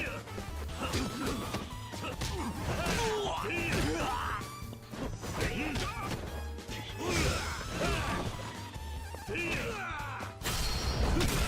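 A brawl in Yakuza Kiwami 2 fills the air with dense, repeated smashing impacts and heavy thuds as a body is slammed into a car, with grunting voices mixed throughout.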